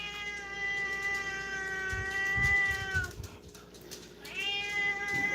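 An elderly farm cat gives two long, drawn-out, close meows, one after the other with a brief pause between them, over quiet indoor background noise.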